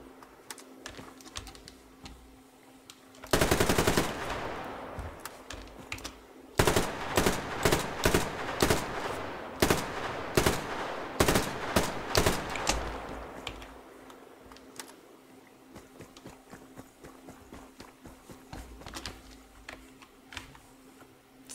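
Bursts of automatic gunfire from the video game Survarium at a shooting range: a loud burst early on, then a dense run of repeated sharp shots in quick succession, then quieter clicks and faint background game sound.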